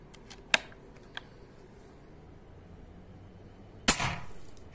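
A Red Target Bullpup R3 PCP air rifle in .25 caliber (6.35 mm), with a regulator and a 180 cc air reservoir, fires one loud, sharp shot near the end, followed by a short tail. Fainter clicks and snaps come earlier, with no talking.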